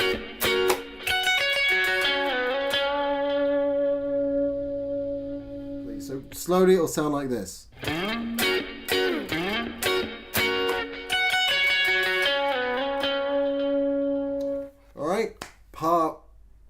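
Electric guitar played through a distortion pedal for extra bite, sustained gritty chords ringing loud and alternating with stretches of talking, then a few short stabbed notes near the end.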